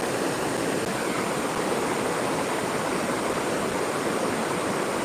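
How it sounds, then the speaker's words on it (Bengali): Clear river water rushes past at a fishing spot, a steady, broadband hiss of flowing current heard close and constant, with no voices or other sounds breaking through. "এই হচ্ছে নদীর পানি খুব স্বচ্ছ পানি"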